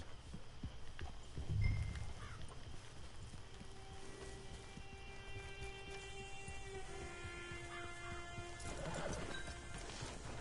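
A horse whinnies over a steady ambient backdrop with faint hoof clops, in a quiet, game-like outdoor scene.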